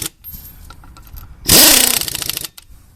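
Air impact wrench tightening wheel lug nuts on a '78 El Camino while fitting Cooper winter tires, one loud rattling hammering burst of about a second amid quieter shop clatter.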